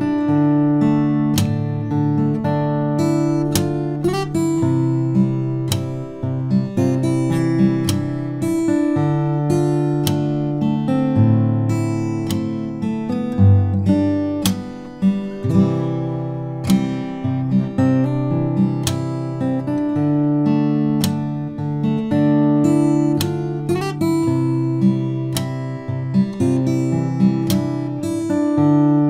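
Fingerstyle acoustic guitar plays the second verse of a song, with plucked bass notes and chords ringing together in a steady, continuous melody for about half a minute, with no talking.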